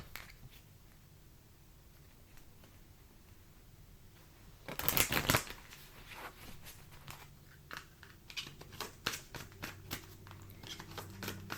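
A Mausolea card deck shuffled by hand, a quiet rustle that swells into a sharp riffling burst of cards, then a run of soft flicks and taps as the deck is handled, with no talking.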